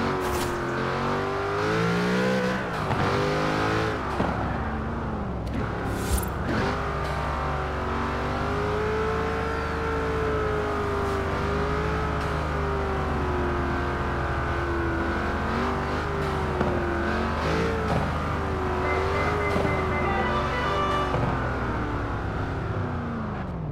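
McLaren car in Forza Horizon 4 driving and revving, with a loud sustained engine note rising and falling through gear changes, continuous and close throughout.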